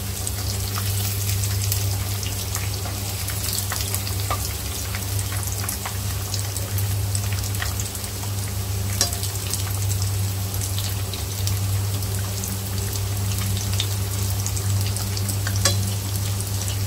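Onion and minced meat toast deep-fries in hot oil, giving a loud, steady crackling sizzle with scattered sharp pops over a constant low hum, unbroken from start to finish.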